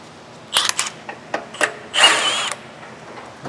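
A power tool works a bolt loose from the lower front control arm of a 2017 Mazda CX-5, whirring and ratcheting in several short, loud bursts with brief pauses between them.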